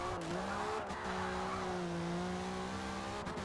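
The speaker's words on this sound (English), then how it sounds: "Not as aggressive on that drift, but still overall very nice and neat. Downshift to third." A drift car slides through a corner with steady engine drone and tire noise, the revs dipping briefly as it downshifts into third, loud and close throughout.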